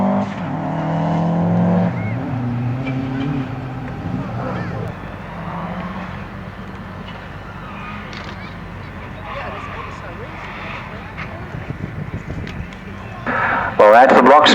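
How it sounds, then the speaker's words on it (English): A turbocharged four-wheel-drive Subaru Impreza rally car on a wet, slippery stage, its engine droning under constant race commentary before rising to a louder rasp at the very end. "in these wet slippery conditions, the Subaru with 4-wheel drive and turbocharging"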